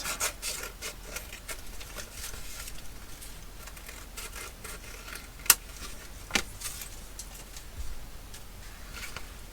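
Old weathered paper being trimmed for a crafted journal card, heard as soft close rubbing and rasping strokes with a couple of sharp snips or clicks near the middle, steady and quiet without any talking.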